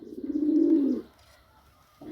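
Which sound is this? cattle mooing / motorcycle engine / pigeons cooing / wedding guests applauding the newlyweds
pigeons cooing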